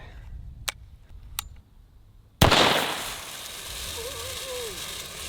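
A flare gun fires at clothing with a sharp, loud bang, then a rushing, crackling roar of burning that goes on. A few faint ticks come before the shot.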